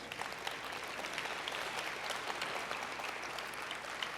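Steady, dense applause from a large audience at a college graduation ceremony, sustained and even throughout with no voices standing out.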